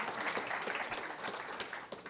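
An audience claps and applauds at a filmmaker talkback session, a dense, even patter of many hands heard from a slight distance at moderate volume.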